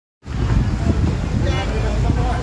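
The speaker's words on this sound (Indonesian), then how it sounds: "angin kuat nih hari ini." Strong wind in Penang on a rainy day, buffeting the microphone with a loud, continuous rumbling roar that starts abruptly and surges in gusts.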